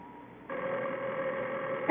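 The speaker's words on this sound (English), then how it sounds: "Harry, the phone." A telephone rings in a 1950s radio mystery drama, a single steady electronic tone that starts abruptly and holds at moderate volume in a quiet room.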